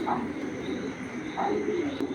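Racing pigeons in a loft, with a couple of soft coos rising briefly at the start and again past the middle over steady low background noise.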